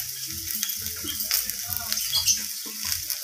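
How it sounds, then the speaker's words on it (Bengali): Spices with vegetables for a spinach dalna, with potato and eggplant, stir-fried in a pan: a continuous sizzle with rhythmic scraping and rattling of the stirring utensil, close and fairly loud, with no voices. "এইভাবে নাড়িয়ে চাড়িয়ে মশলাটাকে কষিয়ে নেব"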